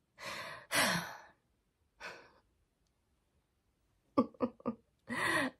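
A horse lets out heavy sighs and breaths, several separate soft exhalations with quiet gaps between them, close by in a calm indoor setting.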